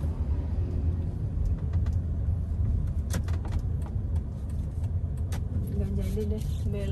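Inside a manual-transmission car during a driving lesson: a steady, low engine and road rumble runs throughout, with faint rattles and quiet background talk.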